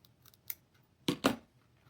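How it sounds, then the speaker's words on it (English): Scissors snipping into the seam allowance of a fabric lining on a sewing project, two crisp close cuts after a few fainter ones, alone in a quiet room. "You just want to make little snips up to your stitches, but do not cut through it."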